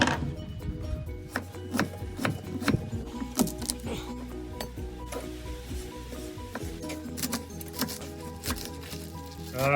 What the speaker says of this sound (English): Chop some things up.